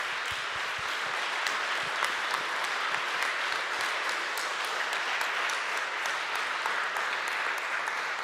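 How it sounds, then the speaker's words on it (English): Steady, even applause fills a TEDx auditorium after a talk, many hands clapping at a moderate distance with no voices over it for the full stretch. "So give him a little applause more for Wolfgang."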